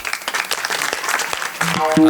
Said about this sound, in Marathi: त्या पालकांनी टाळी वाजवा आता